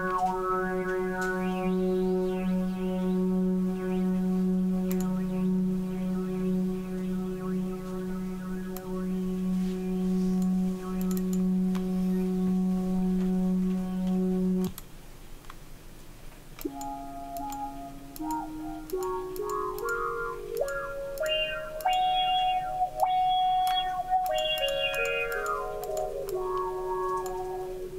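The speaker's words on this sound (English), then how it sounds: "Try the envelope filter." Guitar run through a free Wampler Terraform envelope filter plug-in, first holding a steady low droning note for about fifteen seconds, then a rising and falling melodic line with quacky, sweeping filtered tone, played alone.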